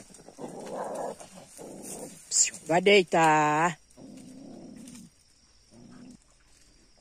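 Dogs whine and yelp excitedly in short bursts, with someone speaking over them and another voice calling out nearby.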